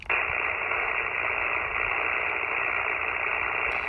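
An IC-705 amateur radio transceiver hisses with steady, loud band static, a constant wash of noise with no voices.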